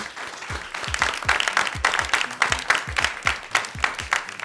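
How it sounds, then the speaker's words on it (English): Steady applause from a game show studio audience, many hands clapping densely and continuously at moderate loudness, with no voices on top. "Please, a round of applause for her."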